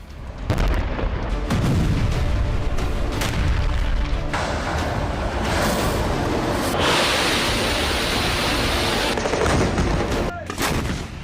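Israeli artillery fires further rounds of shells: loud, repeated booms merge with a continuous rumbling roar, then a few more distinct blasts near the end, with no voices.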